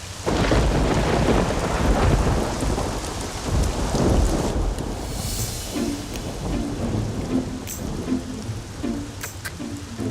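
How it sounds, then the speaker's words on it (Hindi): A heavy thunderstorm over Hyderabad: loud rolling thunder and dense rain fill the opening seconds, then the downpour eases into steady rainfall with scattered drips and patters close by. "ये हैदराबाद की बारिश को जरा सा भी डिसिप्लिन नहीं है।"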